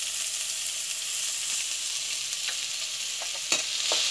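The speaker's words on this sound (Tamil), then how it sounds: "எண்ணெய் காஞ்சிருச்சு இதில் போடுறாங்க வரமிளகாவும் வெங்காயமும் போடுறாங்க கொஞ்சம் ஜீரகம் போடுறாங்க" Dried red chilli, onion and cumin fry in hot oil with a steady, close sizzle, broken by a few faint clicks of stirring.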